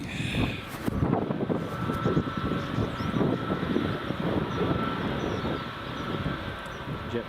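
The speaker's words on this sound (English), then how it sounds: "JetBlue just taxiing in." A JetBlue airliner taxiing at Edinburgh Airport near runway 24, a steady distant engine rumble and whine with wind noise over the microphone and some talk underneath.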